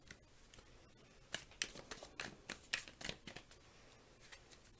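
Tarot cards riffled and shuffled close up in a series of quick, crisp bursts, with soft pauses between each shuffle and no talking.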